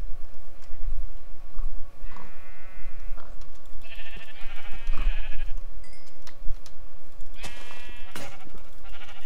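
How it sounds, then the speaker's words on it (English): Minecraft sheep in the Feed the Beast modpack bleat several times in short wavering calls, spread across a busy game soundscape with other clicks and effects. "Now, am I going to be able to find sheep is the real question."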